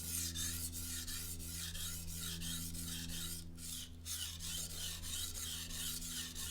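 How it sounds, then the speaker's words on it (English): A kitchen knife drawn across a sharpening surface in repeated even strokes, a rhythmic close rasping scrape with brief pauses between groups of strokes, no voices. "1, 2, 3, and then I inch the knife up."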